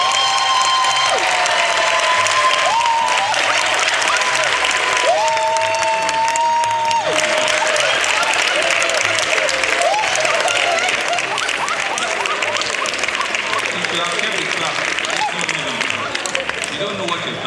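A crowd at an official gathering marked by a promotion announcement applauds steadily for a long stretch, with faint tonal whines and some cheering running through the continuous clapping.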